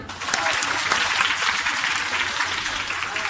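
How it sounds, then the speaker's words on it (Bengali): Dense, steady audience applause fills the hall at a documentary premiere show at Government Laboratory High School, honouring a cast member, a continuous roar of many hands clapping without a break. "সাইমুনের জন্য একটা করতালি"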